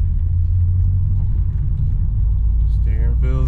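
A race car shop vehicle on a nasty day, a steady low engine rumble running throughout. A voice speaks briefly near the end over the drone.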